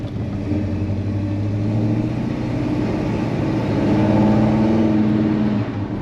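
Chevy C-10 engine with a newly installed carburetor revving loud and close, a continuous throaty roar that climbs in pitch and intensity toward the end without bogging.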